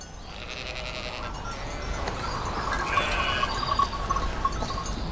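Sheep bleating in a flock out in a field, several wavering bleats rising over a dense, noisy outdoor background.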